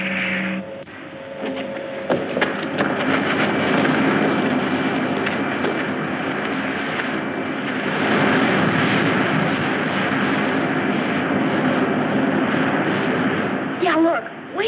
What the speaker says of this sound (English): Handle the landing, Griff.